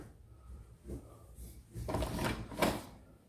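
A wooden door leading into a home's utility room opens with a soft knock, then a louder, rougher scraping swing. Quiet speech is heard around it.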